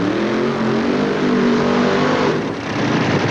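A top-fuel dragster roars at full power on the Sonoma drag strip during the 1988 California Nationals, a loud, dense, sustained engine blast with tire smoke, holding steady then dipping briefly near the end.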